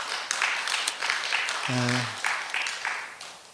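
A church congregation claps steadily in welcome, with sustained applause throughout and a brief spoken word from a man partway through.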